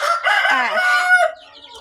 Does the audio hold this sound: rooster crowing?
yes